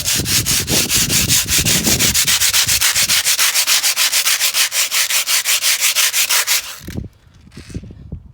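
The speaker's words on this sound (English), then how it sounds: "if we took the rock, anything abrasive, just to take the shadowing off." An abrasive rock scrubbed hard against stained concrete to remove a shadow mark, giving loud, close, rhythmic rasping strokes for about seven seconds before stopping abruptly, followed by a few faint knocks.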